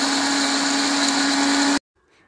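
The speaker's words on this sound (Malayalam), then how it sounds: "നമുക്ക് ഇതൊന്ന് അടിച്ചെടുക്കാം മിക്സിയിലിട്ട്." A kitchen mixer grinder whirs loudly and steadily while grinding jackfruit seeds with cardamom and sugar, then cuts off abruptly near the end, leaving near silence.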